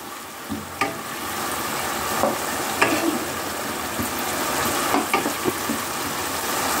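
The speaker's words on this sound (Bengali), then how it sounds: "এই যে বিট গাজর ভাজা আরম্ভ করে দিয়েছি।" Beetroot and carrot frying in a pan: a steady close sizzle with occasional scraping stirs and light clicks throughout, with no voices.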